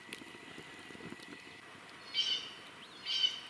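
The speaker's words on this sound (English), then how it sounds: "if you can hear me above these birds" Two short bright bird chirps ring out a second apart over a quiet, faintly rustling background.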